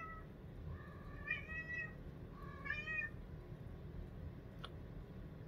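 A pet cat meows twice at close range, two drawn-out rising calls about a second apart over a soft steady room hum, followed by a brief faint click.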